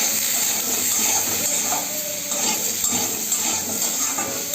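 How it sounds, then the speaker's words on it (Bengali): Vegetables frying lightly with salt and turmeric in a pan give a steady, dense sizzle with faint stirring scrapes, continuous and close throughout. "এগুলোকে আমি হালকা করে একটু ভেজে নেব। সবজিগুলো ভাজার জন্য আমি একটু লবণ দিয়ে দিলাম"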